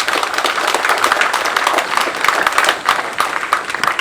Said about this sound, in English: Give our new graduates a big warm round of applause.